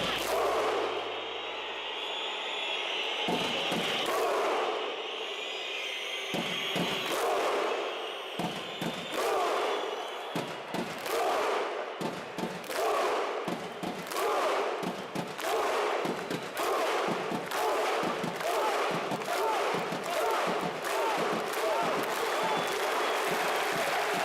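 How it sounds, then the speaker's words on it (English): Iceland football fans perform the Viking clap in a stadium: a massed crowd claps in unison with rhythmic strikes that begin slowly and speed up, with crowd noise and shouts between the claps. "we come together and do this famous Viking clap that got so famous after the game"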